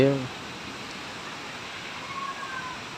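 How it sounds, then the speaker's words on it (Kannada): Rain falls steadily in Karnataka during the season's first storm with wind, a soft, even hiss that continues throughout, with a brief voice at the start and a faint whistle-like tone later. "ಆದರೆ ಇವತ್ತು ಚಂದವಾದ ಮಳೆ ಬರ್ತಾ ಇದೆ."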